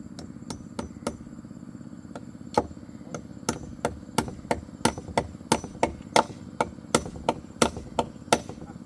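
Repeated hammer blows strike in the open, sharp metallic knocks coming roughly every half second, some louder than others, over a low continuous rumble.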